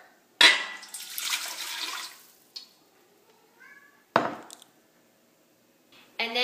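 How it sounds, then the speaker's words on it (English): Lukewarm water is poured into a large cooking pot in a kitchen, a close splashing rush lasting about two seconds, followed by a few brief clinks and another short splash. "So first start out with 3 cups of lukewarm water."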